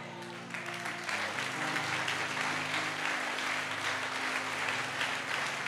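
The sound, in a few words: congregation applauding in church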